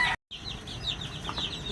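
Resting hens cluck in a backyard after a brief dropout, a steady run of soft clucks and chirpy calls at moderate distance with a faint farmyard hiss underneath.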